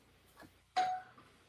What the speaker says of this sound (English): my doorbell